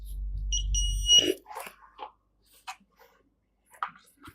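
An electronic robotics-kit laser tripwire alarm buzzes loudly and steadily for just over a second, then cuts off as a person starts talking close by.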